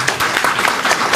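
An audience at a school exam results ceremony in Kédougou applauds loudly and steadily for just over a second, a dense wash of many hands clapping with no voices on top.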